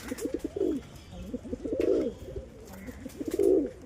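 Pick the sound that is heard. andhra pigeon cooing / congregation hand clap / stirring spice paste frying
andhra pigeon cooing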